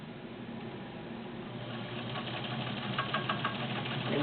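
A vintage all-metal JCPenney Penncrest sewing machine stitching creative embroidery, a steady, close mechanical hum and whir with faint rhythmic ticking, running on its own without any voices.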